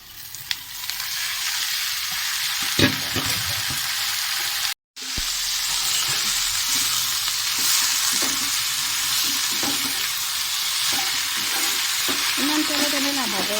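Food frying in a pan while being stirred, a continuous sizzle broken by scraping spatula strokes and occasional clinks, with a brief dropout partway through.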